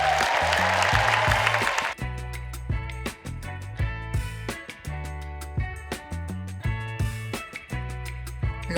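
A theatre audience of about 3,600 applauds a Cirque du Soleil show in Las Vegas. Dense, loud clapping fills the first two seconds, then gives way to music.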